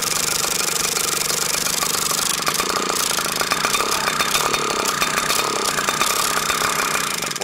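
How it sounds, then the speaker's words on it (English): A Thunder Tiger 120 model engine bump-started into a reverse start, running as a loud, rough, rapid buzzing drone that stays steady and close throughout. "that just resulted in a reverse start, and that was the bump start method"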